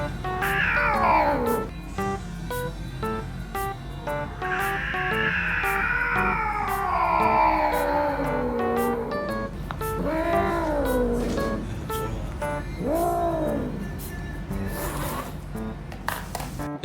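A black cat and a white cat yowl during mating, with long, rising and falling wails that repeat several times, loud and close, over a steady background hum.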